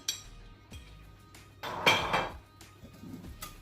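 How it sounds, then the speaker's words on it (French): Grated carrots being mixed into carrot and coconut basbousa batter in a bowl, giving close, irregular spoon clinks and scraping knocks against the bowl, with a louder flurry of mixing midway. "on mélange le tout."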